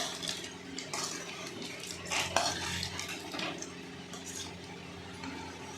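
A spoon mixing Maggi masala chaat in a bowl, giving continuous clinking and scraping of metal against the dish over a soft background hum, with a louder knock midway and no talking.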